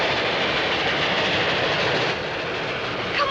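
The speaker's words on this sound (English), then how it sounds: "Look, Pa, it's a train." A train rolls past on rails across open prairie, a steady broad rumble of wagons and wheels holding throughout at fairly close range, with no voices.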